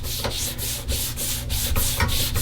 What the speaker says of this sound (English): Rub your palm across it like this.